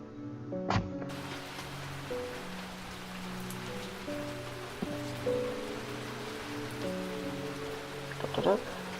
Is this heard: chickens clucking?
no